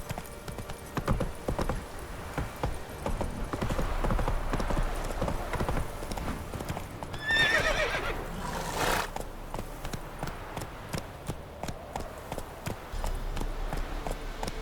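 Horse hooves clip-clop at a steady gallop in the Witcher 3: Wild Hunt video game, loud and close throughout, with a short whinny and a brief burst of other game sound partway through.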